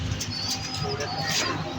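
Pigeons on a sunny rooftop, soft cooing and light fluttering mixed with a close, breathy wash of background noise, continuous over a short stretch with no clear talk.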